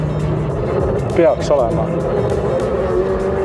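A vintage Pierce-Arrow 126 car drives with a low engine rumble and a brief mechanical clunk and whine as it shifts into second gear, while someone talks over it.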